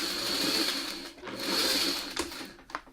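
Sewing machine stitching across the seams of a large quilt block, a steady whirring hum that pauses briefly and resumes, ending with a few short clicks and bursts.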